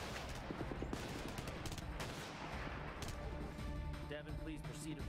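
Dense, continuous gunfire and explosive crashes from the shooter game Blackwater on Xbox 360, with a sniper rifle among the weapons, forming a busy, loud wash of shots that runs steadily throughout.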